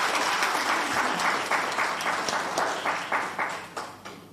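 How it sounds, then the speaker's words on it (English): A crowd at a live religious community event applauds warmly, many hands clapping in a full, even roar that gradually thins and fades toward the end. "let's just give them another round of applause."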